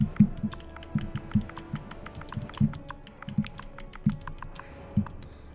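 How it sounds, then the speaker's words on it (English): Steady keystrokes on a computer keyboard, close by, with sharp clacks and heavier thumps in an irregular rhythm and no one speaking. "I hate typing on this keyboard"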